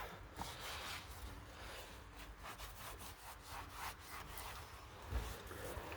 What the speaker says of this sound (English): Take your microfiber towel and just start wiping it down.